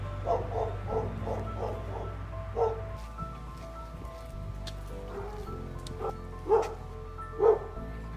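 A dog at a home barks in a rapid run of yaps, then lets out two louder, separate barks a second apart, close by against faint room background.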